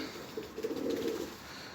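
A pigeon caught on a balcony gives a soft, low cooing call close by, one short rolling coo over faint background noise.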